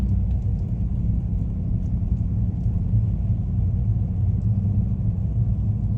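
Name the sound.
car driving on a leaf-covered forest road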